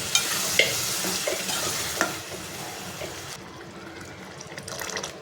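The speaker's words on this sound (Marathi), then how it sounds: "कुकरच्या भांड्यामध्ये थोडं पाणी टाकून ते पाणी ह्याच्यामध्ये टाकून घेते" Water poured into hot frying spices and wild greens in a pressure cooker pot hits with a loud burst of sizzling and bubbling that gradually dies down to a softer simmer.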